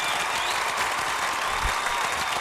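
A round of applause keeps going on a hip-hop talk show set, a steady wash of clapping that runs throughout without a break.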